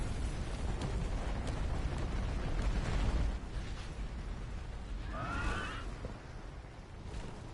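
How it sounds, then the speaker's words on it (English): Giga Flare spell in Final Fantasy 16 erupting as a deep, rumbling explosion that swells and fades, followed by a quieter, shimmering magical tail. "Giga Flare! Boom!"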